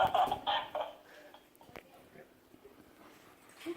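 A dog whimpers in short high whines that fade over a few seconds, with a louder burst at the start and quieter ones after, mixed with light background noise.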